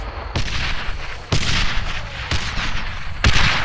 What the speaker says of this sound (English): Before the sun sets, we're ambushed again by mortars.